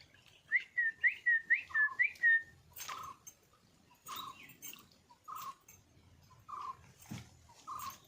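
A person whistles a rapid run of short rising notes close by, followed by a series of spaced bright chirps and calls from birds answering, with light rustling and a soft thump underneath.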